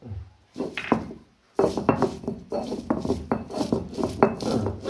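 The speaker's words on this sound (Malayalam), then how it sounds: "ജീരകം ഇതും കൂടെ അതിന്റെ കൂടെ ഒന്ന് ചതച്ച് നീക്കാം" Garlic and cumin are pounded in a pestle with a series of hard, knocking thumps, roughly a dozen in an uneven rhythm, close and fairly clear after a brief pause.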